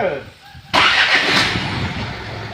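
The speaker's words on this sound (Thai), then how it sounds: "ครับประมาณนี้นี่เครื่องยนต์ติดแล้วนะครับ เครื่องยนต์ติดแล้วเด้อ" An Isuzu NMR130 truck engine starts: near-silence, then an abrupt loud catch as the engine fires and settles into a steady, close, broadband running roar that eases slightly toward the end.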